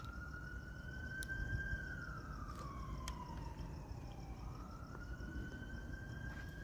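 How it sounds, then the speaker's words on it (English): A police siren wails steadily, its pitch sliding slowly down and then back up, fairly distant over a low rumble of traffic in Huntington Beach, California, at the scene of a shooting. "Sounds like a police car"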